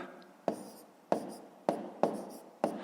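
Pen or pencil writing digits by hand on paper for a column multiplication problem, five short sharp taps at roughly even intervals, close and quiet with no talking.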